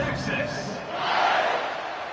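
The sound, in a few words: stadium crowd buzzing at a college football game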